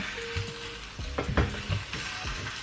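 A spoon stirs one-pot chicken rice with frozen green peas in a hot pan, close scraping and stirring over a steady sizzle, with irregular bumps and clatter and no voices.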